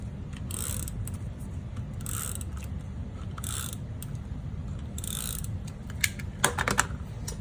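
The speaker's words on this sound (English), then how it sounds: "on the back, I'm just gonna adhere it to a card base with some tape runner" A tape runner applies adhesive to the back of a paper panel to mount it on a card base, giving a few short ratcheting rolls and clicks that stay quiet and close, followed by small taps.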